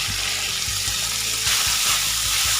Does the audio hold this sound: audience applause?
no